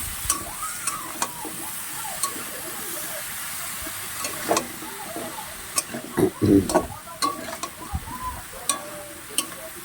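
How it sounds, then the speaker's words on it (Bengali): Pumpkin, potato and Malabar spinach stirred and sizzling in a pan over a high gas flame, with a steady hiss and intermittent scraping stirs that grow louder and busier toward the middle. "এই সবজিটা দিতে ভালোভাবে নাড়তে হবে, গ্যাসটাকে বাড়িয়ে দিতে হবে।"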